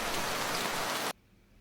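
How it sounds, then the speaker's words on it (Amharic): Steady rain falling, a dense even hiss that fills the clip and then cuts off abruptly after about a second, leaving near silence. "ዝናብ"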